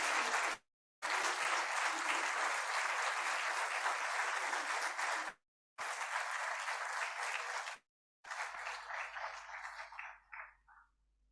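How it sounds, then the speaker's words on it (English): Applause from the audience at a university ceremony attended by the Vice President of India. Dense, steady clapping is broken by short gaps and tapers off at the end. "Can we have a big round of applause,"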